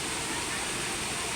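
A river at Pami, Laguna, with a steady, loud rush of flowing water close by, filling the whole moment with broad hiss and no break.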